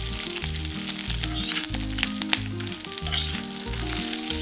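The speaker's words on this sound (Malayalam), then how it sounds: "ഇതിലേക്ക് ഞാൻ കുറച്ച് കറിവേപ്പില കൂടെ ചേർക്കുന്നത് കേട്ടോ" Curry leaves hit a pan of crab roast and set off a loud, continuous sizzle and crackle of frying, close by. Steady low background music runs underneath, with no voices.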